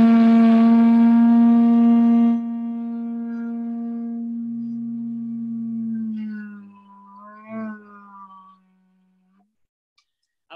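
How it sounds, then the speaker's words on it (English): A large conch shell is blown in a long, steady, horn-like tone that holds loud for about two seconds, then drops to a softer sustained note with a wavering, fading tail before a brief silence. "But it's a nice large shell and it sounds like this."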